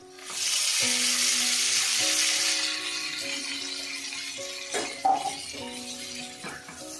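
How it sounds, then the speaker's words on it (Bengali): Fried pointed gourd pieces go into a hot, oily spice masala for patal rasa, setting off a loud, steady sizzle that settles down, with a few clinks of a utensil and stirring near the end. "এবার আমি দেবো ভেজে রাখা পটলগুলো।"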